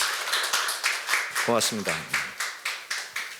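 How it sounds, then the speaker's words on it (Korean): At a Daejeon startup forum, an audience claps for the staff in rhythmic, fairly loud, evenly spaced claps, while a person briefly speaks over the clapping midway. "고생을 한 우리 직원들한테 박수를 한번 치고 가면 어떨까?"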